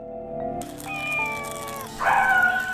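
A person's voice imitates a cat, giving a drawn-out, whiny meow that rises and swells into a louder, strained final cry, close and clear with no other talking.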